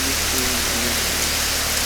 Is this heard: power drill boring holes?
no